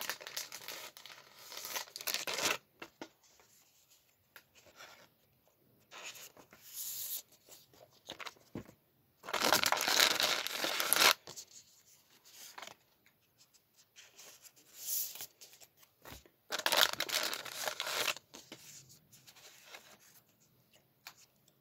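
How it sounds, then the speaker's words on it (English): Pokémon trading cards slide into plastic card sleeves, making crisp crinkling and rustling bursts in short separate spells with near-silent gaps, close and fairly loud. "I'm just gonna sleeve some cards real quick."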